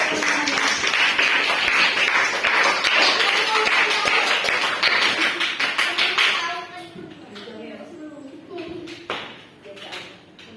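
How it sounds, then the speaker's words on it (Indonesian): Children clapping their hands together during a Sunday children's catechesis session, brisk rhythmic claps that are loud and steady for about six seconds and then stop, followed by scattered voices talking. "Tepuk tangan dong."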